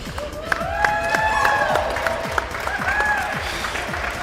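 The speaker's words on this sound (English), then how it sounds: "please give a big round of applause for your first winner of the Hobbyist class, Ed from Latvia of Robo Pilots." Crowd applause and cheering at a tiny whoop drone race finals for the Hobbyist class winner, steady clapping with whoops and whistles close by, a voice talking over it.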